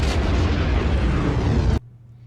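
A dense, roaring explosion sound effect from the film Star Wars Episode VIII rumbles at full volume for nearly two seconds, then cuts off abruptly into near silence.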